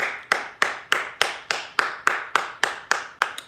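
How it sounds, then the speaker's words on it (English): About a dozen steady single hand claps from one person, close and evenly spaced, sharp and loud with no talk over them. "If you glad to be alive right now, just clap."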